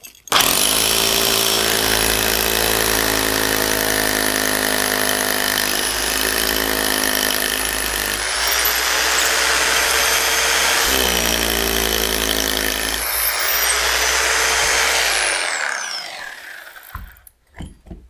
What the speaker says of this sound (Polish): Wiercimy? Wiercimy.